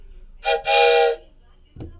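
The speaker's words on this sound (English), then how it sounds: "It's a train whistle." A train whistle sounds two harmonic blasts in quick succession, a brief one followed by a longer held tone, then a soft low thump, with no talking.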